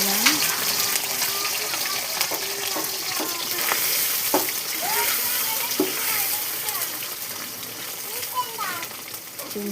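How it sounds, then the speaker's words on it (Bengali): Eggs frying in a pan give a continuous close sizzle, with water-like hiss and occasional utensil clicks; faint chirping voices or tonal sounds drift in the background. "ডিমগুলো ভেজে নিলাম।"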